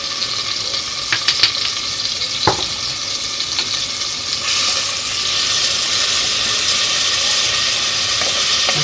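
Rice fries in oil with seasoning in a new pan, a steady close sizzle and hiss that swells louder midway, with a few clinks of a utensil stirring.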